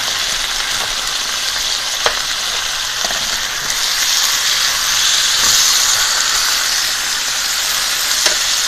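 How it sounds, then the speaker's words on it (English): Steaks sizzle loudly on a restaurant grill, a steady dense hiss and crackle lasting throughout, with a few faint clicks and clatters of kitchen tools and a low background hum. "I gotta flip these steaks."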